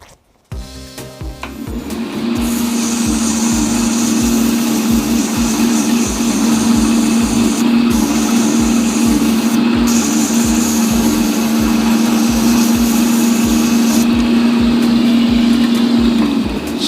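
A wood lathe spins zebrano pen blanks during sanding, its steady, loud whirring hum starting after a short pause and holding evenly until the end.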